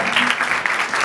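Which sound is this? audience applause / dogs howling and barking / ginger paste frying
audience applause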